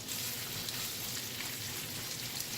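Onions cook in melted butter with a dense, steady hiss like light rain, a continuous close sizzle holding even in loudness throughout, with no talking.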